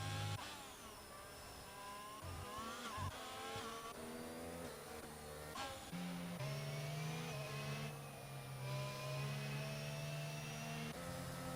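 Aston Martin safety car from the F1 2022 racing game at the Barcelona-Catalunya circuit, its engine droning and revving steadily throughout, with pitch rising and falling as it accelerates, mixed among other car engine tones.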